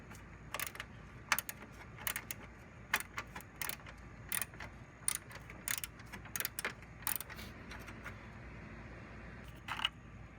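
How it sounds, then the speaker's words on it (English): Two 10mm bolts being removed from the bumper-to-frame mount on a Trailblazer or Envoy, heard as quiet, irregular ratchet clicks and metallic taps spread across the stretch with no talking. "Remove the two 10mm bolts that connect the bumper to the frame."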